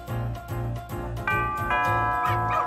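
A repeating chime rings several times in a steady pattern, loud and close, with tonal notes sounding over a low background.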